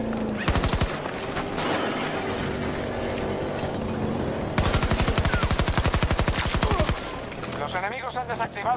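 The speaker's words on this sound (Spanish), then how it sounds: "¡Están disparándome!" Rapid bursts of automatic gunfire in Battlefield 2042, from a PP-19 Bizon among other weapons, come in long dense volleys with short gaps, loud and close over a busy game mix with voices.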